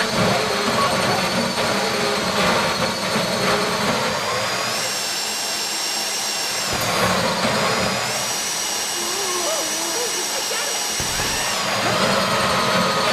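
Power drill boring into a bank vault safety deposit box during a GTA Online heist, a loud continuous grinding whine that shifts pitch as the bit bites, with clanking and rattling throughout and no voices.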